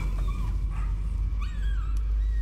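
A dog in the Layers of Fear horror game gives soft whimpers and yips, with faint bark-like cries standing out over a constant low game drone at moderate loudness.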